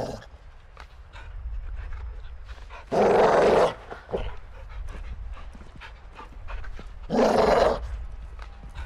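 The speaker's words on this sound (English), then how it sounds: "Do you see the caged dog?" Caged dog panting in the video game Call of Duty: Modern Warfare II, with rapid close breathing throughout and two louder, harsher bursts of heavy panting standing out, no talk.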